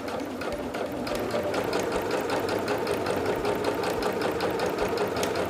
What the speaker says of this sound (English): And now we'll just sew.